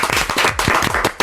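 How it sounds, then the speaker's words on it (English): Audience applause from a crowd at a live event, dense crackling claps in bursts with brief gaps, loud and close. "Round of applause for Sammy's dad."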